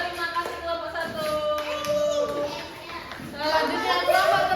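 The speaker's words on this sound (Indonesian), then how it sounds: "Tepuk tangan untuk kelompok 1." Schoolchildren in a classroom clap for a group, a short burst of hand claps mixed with children's chatter and a teacher's voice talking over it.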